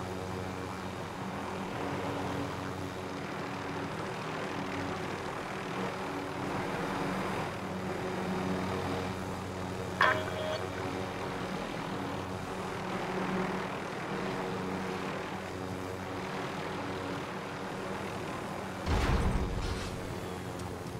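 A propeller aircraft serving as an air taxi flies in the video game Call of Duty Warzone, a steady droning engine hum with layered tones held for the whole stretch, a couple of brief thumps partway through and near the end.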